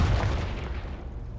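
A Confringo blasting spell explodes in Hogwarts Legacy as a single deep boom. Its low rumble decays over a second and a half with no voices.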